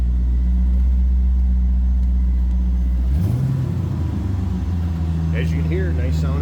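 A 1997 Chevrolet Corvette coupe idles just after a cold start, a steady deep rumble with a loud, continuous low hum that shifts in tone about halfway through.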